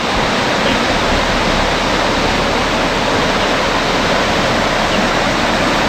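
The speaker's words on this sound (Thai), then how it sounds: "ดูสิครับข้างล่างนะครับ มีเสียงน้ำแบบสุดยอดมากเลยนะครับผม" Steady, loud rushing of river water flowing below a riverside treehouse in Phatthalung, Thailand: a dense, unbroken roar that fills the whole clip with no voices.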